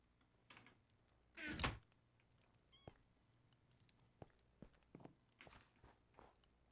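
A cat in the Minecraft video game gives a short, faint meow, surrounded by soft, scattered footsteps and light clicking taps over a quiet background.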